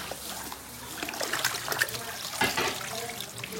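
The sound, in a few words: water running while washing meat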